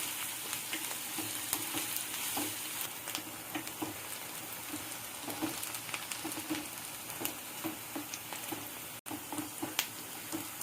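Sliced onions fry in hot oil in a pan for a mango dry fish curry, a steady close crackling sizzle with small popping spatters running continuously and evenly throughout.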